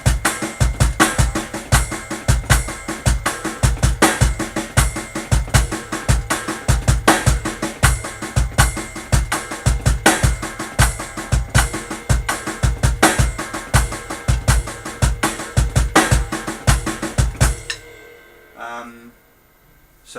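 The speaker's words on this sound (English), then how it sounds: "it sort of turns it more into just a straightforward drum beat than a sort of a groove or a rudiment" A drum kit plays a paradiddle pattern as a straight beat, with steady, even, loud hits repeating for about eighteen seconds before stopping abruptly.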